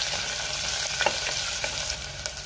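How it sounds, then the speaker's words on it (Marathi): Onion sautéing in a pan for dal, a steady dense sizzle with a few light spatula scrapes on top; close and fairly loud, with no voices. "कांदा 2 मिनिटं मी व्यवस्थित परतून घेणार आहे।"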